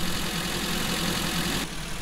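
Oversized construction machine engine idling in the video game Giant Machines 2017, a loud steady low rumble that dips slightly near the end.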